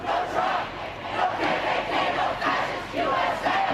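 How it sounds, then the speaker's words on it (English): Street protest crowd in a major city after the 2016 election: a dense, continuous roar of many voices chanting in rising and falling waves, steady and fairly loud from start to finish. "Most of these protests erupting in major cities where Hillary Clinton won, like Portland, Oregon"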